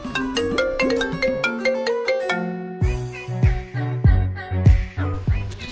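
A mobile phone rings loudly and close by, playing a quick, bright melodic ringtone of repeated tones that shifts into a lower, punchier pattern.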